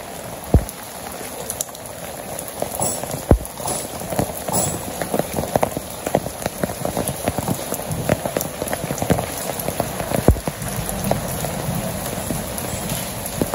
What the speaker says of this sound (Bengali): আজকে বৃষ্টি